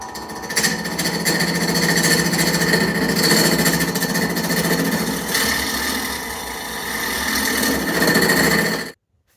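An old wood lathe turns a vase while a tool roughs it down with heavy chatter, a loud continuous rattling, grinding drone held close for about nine seconds before stopping abruptly.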